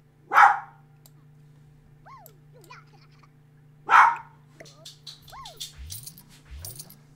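A dog gives two sharp barks a few seconds apart, fairly close, with quieter whines or yips between them in a domestic setting.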